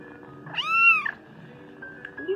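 A single clear, drawn-out meow from an underweight kitten rings out close by in a quiet room, with a faint squeak near the end.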